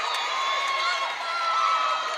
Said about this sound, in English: Absolutely intense Arkansas Tech crowd.